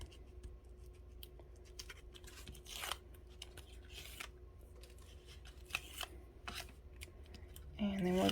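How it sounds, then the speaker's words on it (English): Adhesive backing peeled off paper while assembling a 5x7 mini scrapbook album: a faint, continuous papery crackle and tearing rustle across the whole stretch, with a louder scrape at the close and no speech. "let's peel our backing off. Peel, peel, peel."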